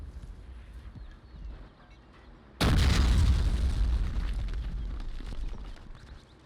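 A 45 mm light anti-tank gun fires once in the Men of War video game, a sudden loud explosive crack that rolls into a sustained rumbling roar after a quieter stretch of background battle noise.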